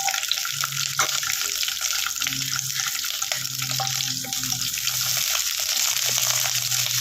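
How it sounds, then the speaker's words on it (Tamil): Small onions dropped into hot oil in a home kitchen sizzle steadily, a dense, even crackle that stays close and constant throughout with no talk. "எண்ணெய் காஞ்சிருச்சு இப்போ சின்ன வெங்காயம் இதில் சேர்த்துக்கிறேன்"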